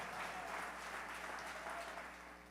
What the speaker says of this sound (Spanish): Dele un fuerte aplauso al que vive y permanece para siempre.